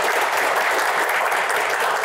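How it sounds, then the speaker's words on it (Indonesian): Audience applause at a Q&A panel event, a dense, steady clapping that stays loud and even throughout with no voices over it. "Baik, tepuk tangan untuk Pak Burhanuddin."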